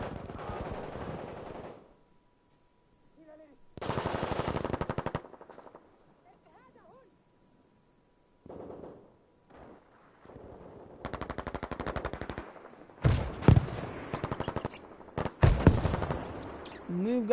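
Bursts of machine-gun and cannon fire aimed at Panther tanks in a tank combat video game, coming in separate volleys with quiet gaps between, the densest and loudest barrage near the end, with commentary voices between the shots.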